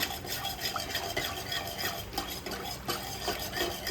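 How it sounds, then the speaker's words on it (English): A whisk or spoon stirs a raw besan mixture for khatta moong, giving a steady, close scraping and swishing with quick repeated strokes throughout, with no talking. "If you don't have a whisker, you can just mix it with a spoon, but it's important to mix."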